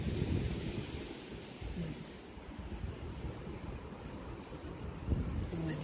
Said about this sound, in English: The wind is restless.